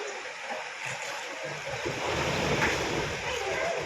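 Floodwater from heavy rain in Tirunelveli rushing and roaring as it sweeps a house away, a steady loud wash of turbulent water that swells slightly midway.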